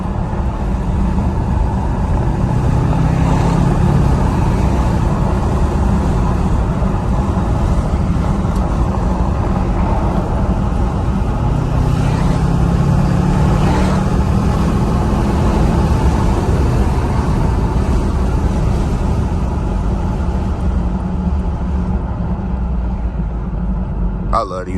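A 2024 Bentley Continental GT drives on the road, heard from inside as a loud, steady engine and road rumble that holds without a break, with wind noise and someone talking over it.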